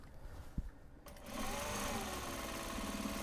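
A sewing machine stitches the interior seams of large Japanese fabric box bags. It starts after a second of room quiet and a small click, then whirs steadily and close.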